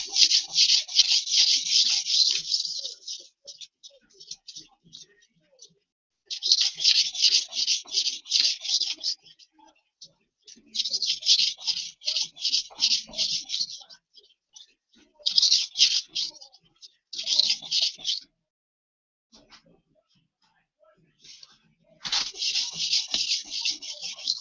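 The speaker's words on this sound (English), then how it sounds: "back to sharpening again. All right, so once again, we're on the coarse stone" A blade is worked on a coarse sharpening stone in repeated bursts of fast, close rasping strokes, separated by short quiet pauses and faint handling noises.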